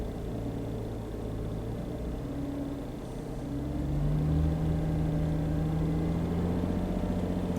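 A car engine idling in cold weather, a steady low hum and rumble with a faint whine, rising slightly in level partway through, continuous and close with no voices.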